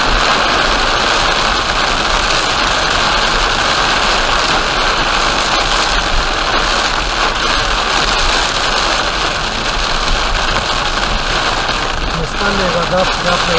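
Rain on the Amur R297 highway heard from inside a car, steady loud drumming of rain on the body over a low idling engine hum, continuous throughout, with faint voices near the end.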